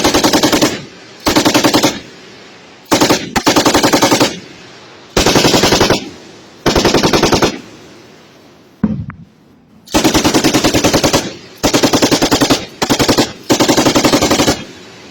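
Sustained machine gun bursts during heavy fighting between armed groups in eastern Congo, loud, close and repeated in long rapid volleys with short gaps, one sharp single shot, no voices.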